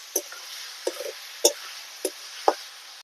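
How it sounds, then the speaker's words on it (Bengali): Ginger, garlic and green chili paste frying in a pan, with a steady soft sizzle under about five evenly spaced scraping taps of a spatula or spoon stirring the mixture. "এবারে আদা রসুনের কাঁচা গন্ধ যাওয়া অবধি ভেজে নেব।"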